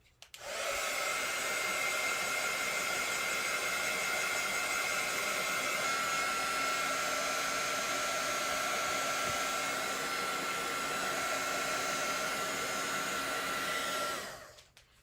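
A hair dryer blasts steadily and loudly for about fourteen seconds, drying a mixed media artwork, a constant even whoosh that starts and stops abruptly with no talking.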